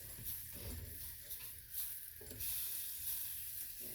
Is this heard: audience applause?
no